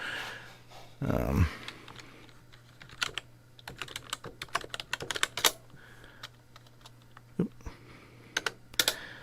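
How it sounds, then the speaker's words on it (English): Rapid clicky keystrokes on a new compact computer keyboard, near and crisp, arriving in irregular bursts and single taps, with a brief thump near the start and a faint steady hum underneath. "Sorry, it's a new keyboard that's it's a little weird."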